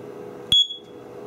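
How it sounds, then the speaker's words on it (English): A DIY IoT smoke detector's beeper sounds a single short, loud, high-pitched beep of about a tenth of a second over a steady low background hum. "that's the beeper"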